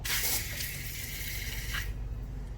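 Water runs steadily from a garden hose on a quick-connect fitting into a wash bucket, a loud close hiss that cuts off sharply partway through, leaving low background rumble.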